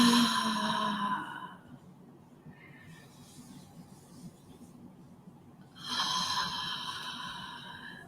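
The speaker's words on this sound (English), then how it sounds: "Take it in and take it out. When you breathe out," A person breathes deeply and exhales with a voiced sighing sound, two drawn-out audible out-breaths separated by a quieter, softer stretch of breathing.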